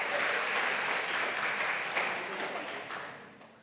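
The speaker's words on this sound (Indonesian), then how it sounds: "Mari kita berikan tepuk tangan yang lebih meriah." An audience at a women's Easter church gathering applauds, a dense wash of clapping that holds steady and then slowly fades out over a few seconds.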